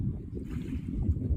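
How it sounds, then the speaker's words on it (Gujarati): Roaring, gurgling water in a rural village beside a moored boat, a steady low rumble that churns continuously without pause, fairly close and unbroken. "આ પાણીનો ગાજવાનો અને ઘૂઘવાટાનો અવાજ"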